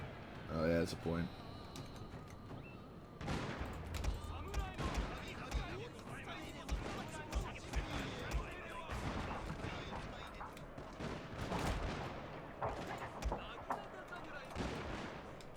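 Cannon fire in the Shogun 2 Total War video game, repeated booming shots and crackling volleys scattered across the clip over a busy battle din.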